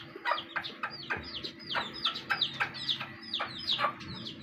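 Chickens being fed cluck repeatedly in quick, uneven bursts, fairly close, with a low background hum underneath and no talking.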